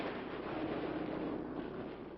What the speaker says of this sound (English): here is evidence of their great skill in anti-aircraft fire